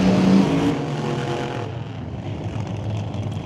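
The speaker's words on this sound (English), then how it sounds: "Listen to the difference of the engine, the high whine and scream of the alcohol car" A blown alcohol-fueled top dragster engine at an NHRA drag racing event gives off a loud, sustained high whine and roar, with harmonic tones that shift and then settle into a steady drone.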